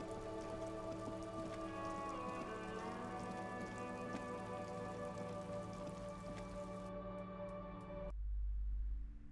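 Steady rain falls in Disco Elysium, a soft continuous hiss layered under low tonal ambience and faint clicks, ending abruptly with a brief low rumble.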